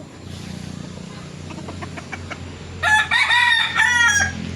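A stag fighting rooster crows nearby in a long, loud, broken cock-a-doodle-doo over steady background hum, with faint clucks just before it.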